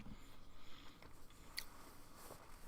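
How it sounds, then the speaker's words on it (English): Open-mouthed chewing comes through as soft wet crunching and smacking, close to the ear, with no talk over it. "sorry for chewing my mouth open"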